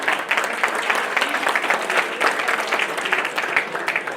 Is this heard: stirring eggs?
no